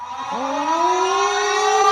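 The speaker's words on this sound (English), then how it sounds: "I like that air raid sound." An air raid siren winds up from low to a high sustained wail, loud and steady, sounding alone.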